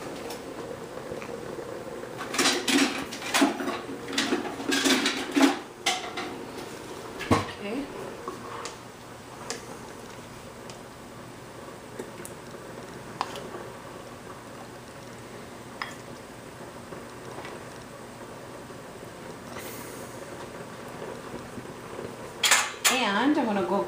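Metal spoons and dishes clink and clatter in a kitchen while a curried black chickpea dish is cooked, with bursts of close rattling early and near the end and a person talking throughout.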